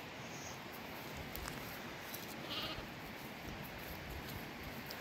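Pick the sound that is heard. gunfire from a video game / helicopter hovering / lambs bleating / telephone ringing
lambs bleating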